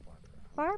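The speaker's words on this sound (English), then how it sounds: "That's a cat." A cat in the Phasmophobia ghost-hunting game gives one short, clear, fairly loud meow near the end, after a voice speaks over quiet background noise.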